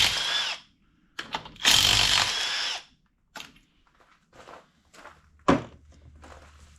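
A 3/8 inch impact wrench working engine head bolts: short loud rattling bursts, the longest about a second, separated by pauses with quieter clanks and handling noises of tools and parts.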